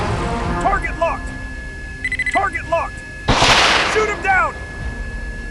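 Bursts of gunfire strike an enemy plane in an airplane battle video game, a loud rattling volley cutting in among beeping alerts and synthesized game voices.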